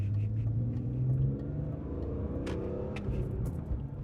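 A BMW M3 E46 engine revs and growls close by, pitch rising and falling with throttle, a deep rumbling exhaust note throughout, no talking.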